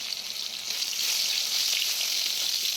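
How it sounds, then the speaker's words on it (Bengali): Potatoes hitting hot oil in a kadai with nigella seeds, a steady hissing sizzle close up that swells slightly louder after the first second and holds without pause. "কড়াইয়ের মধ্যে আমি একটু কালো জিরে ফোড়ন দিয়ে আলুটাকে ছেড়ে দিলাম"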